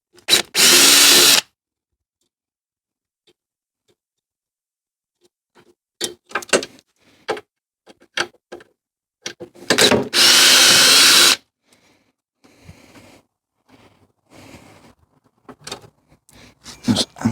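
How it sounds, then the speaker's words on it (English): A power drill fitted with a screwdriver bit whirs loudly in two long bursts while backing screws out of a scrapped treadmill, with clicks, taps and clatter of parts between runs. "That's better when the screwdriver works on a drill."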